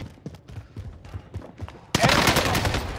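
In Call of Duty on Rebirth Island, soft footsteps and faint game sounds give way to a sudden loud burst of close gunfire that continues densely to the end.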